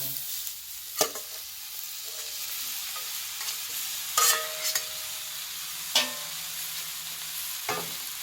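Blanched crunchy kale stir-fried with instant noodles in a pan, a low steady sizzle broken by four or five sharp scraping clacks of the spatula at irregular intervals, no voices.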